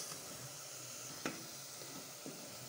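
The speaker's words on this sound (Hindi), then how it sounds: "तो गुलाब जामुन हमारे माशाल्लाह से फ्राई हो गए हैं ये भी" Semolina gulab jamun frying in hot oil give off a quiet, steady sizzle and hiss, broken by one sharp crackle and a fainter pop, with no talking.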